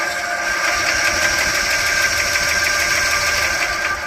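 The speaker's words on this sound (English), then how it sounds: "we're testing out our new booster pack here, and we should be able to hold this down and go into force start, which it does" A Club Car Carryall utility vehicle engine, running after a force start from a booster pack with a bump starter fitted, roars loud and close in a steady, even drone with a rough knocking texture throughout.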